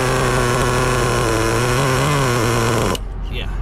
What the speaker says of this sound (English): See how well she's idling, because she could be running a little too much.